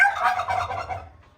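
A turkey at a farmhouse gobbles in one rapid, rattling burst that is loud and close at first, then trails off into quiet within about a second.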